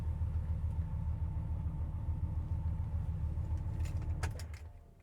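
A 2006 GMC Sierra 2500 pickup with low original mileage idles loudly, a deep, steady engine rumble heard close up that fades near the end as a few light clicks and rattles come through.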